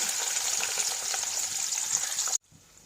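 Onions going into a hot pot for beef pulao, a loud bright sizzle that holds steady for a couple of seconds, then cuts off abruptly to a much quieter background.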